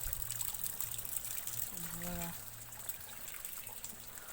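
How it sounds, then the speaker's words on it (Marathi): Rainwater trickles steadily down from the forested hillside above a village, a faint, continuous wet dribble with a brief voice rising over it midway. "मंडळीनो ते तुम्हाला दाखवतो आता पाणी बघा कसं येते"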